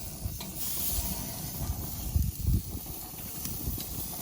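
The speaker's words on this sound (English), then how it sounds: "right now I'm gonna flip my turkey burgers" Turkey burgers sizzling in a pan as they are flipped, a steady close hiss with a few louder bursts and clatter near the middle.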